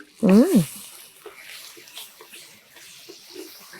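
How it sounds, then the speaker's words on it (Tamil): Water is poured into a pot of mutton curry during cooking, giving a soft, steady splashing wash under a brief voiced sound at the start, with kitchen noise continuing throughout. "செஃப் இன்னும் கொஞ்சம் வாட்டர் ஊற்றிக்கலாம்னு நினைக்கிறேன்"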